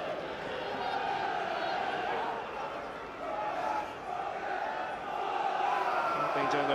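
A large football crowd inside Broadfield stadium at a Crawley Town versus Swindon Town match, a steady distant roar of voices and chanting that swells and dips slightly.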